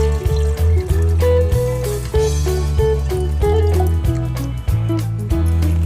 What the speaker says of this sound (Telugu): ఈ విధంగా వాటర్ పోసిన తర్వాత మళ్ళీ